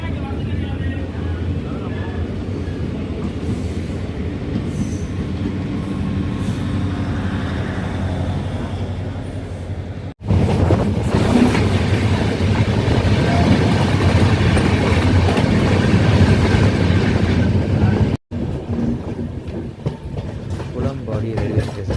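The Vaigai Superfast Express runs from Chennai Egmore toward Madurai and is diverted from the main line to a loop line near a station. Steady rail rumble and clatter fill the clip, loud and continuous, and grow louder partway through, with a voice heard over them.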